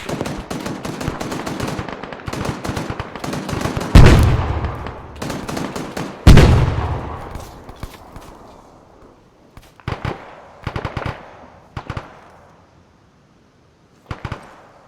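Rapid gunfire bursts in an Arma 3 operation, heavy automatic volleys with loud sharp cracks and echoing tails, then sparser short bursts trailing off into quiet.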